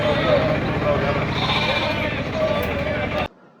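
Sheep bleat at a crowded livestock market during Diwali in a Lambani community, their calls rising over a dense, continuous crowd murmur and background bustle before the sound cuts off abruptly.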